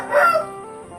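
A young rooster around seven months old gives one short, close crow that peaks early and fades within about a second.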